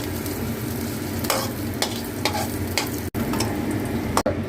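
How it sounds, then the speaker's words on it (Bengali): Onions frying in oil in a pan, a steady dense sizzle running throughout with a few louder stirring scrapes, close and without speech. "এই তেলেতেই আমি পেঁয়াজটা ভেজে নেবো"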